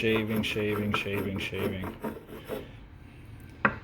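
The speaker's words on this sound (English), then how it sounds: "Take off little shavings at a time." Hand shaving of a figured PRS guitar wood top, a quick run of raspy scraping strokes that fades out, then a single sharp knock; tonal ringing underneath suggests something else playing faintly.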